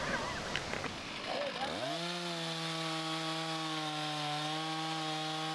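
Stihl 460 chainsaw revving up and then holding a steady loud drone as it cuts into a large aspen tree outdoors, after a few seconds of rough idling and rattle.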